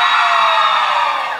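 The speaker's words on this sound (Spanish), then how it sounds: "¡Aplausos para Denise!" A contest audience at Costa Azul roars for a female contestant. Loud, continuous cheering and applause blend into one dense, unbroken wash of crowd noise.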